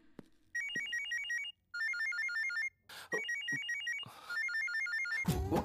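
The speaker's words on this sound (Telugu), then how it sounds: "టీ మహేష్ లేకపోతే అతని ఫోన్ ఎలా రింగ్ అవుతుంది?" Mobile phone ringtone going off in a classroom, a bright electronic melody repeating in several bursts separated by short gaps, with a few thumps and rustles between rings.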